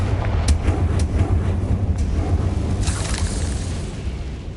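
A Confringo fire-blast spell explodes in Hogwarts Legacy, a deep rumbling boom with a few sharp bursts and crackles riding on it, loud and sustained before slowly fading.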